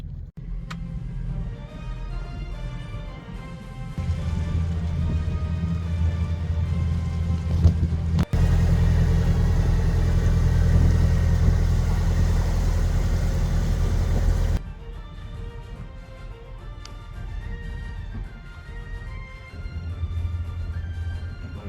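A boat's engine cruises at 4 knots on a flat sea near Sardinia, a steady low droning hum that swells louder through the middle stretch before easing back to a quieter, even rumble.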